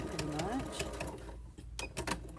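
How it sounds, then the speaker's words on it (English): Sewing machine running steadily while stitching a replacement zipper into a pair of pants, a close mechanical whir with short pauses, heard under a person talking. "We can go ahead and sew this little spot closed as we're done with this side pretty"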